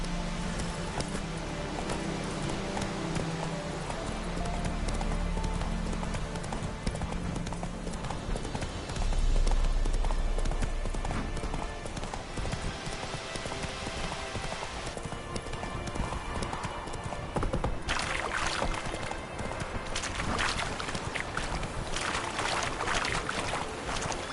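The horse Roach gallops in The Witcher 3, a steady, rapid clip-clop of hooves that continues throughout, with the rhythm loosening and shifting partway through.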